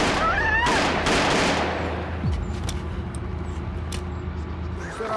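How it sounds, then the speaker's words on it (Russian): Gunfire in a film scene: several loud sharp shots crack in quick succession at the start, followed by a lingering rumble and scattered fainter bangs. "Стреляю!"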